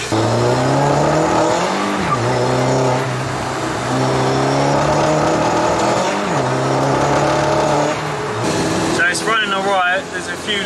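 A VW Polo 6n2 Quattro drives fast with a loud engine that rises and falls through gear changes, then fades as voices take over near the end.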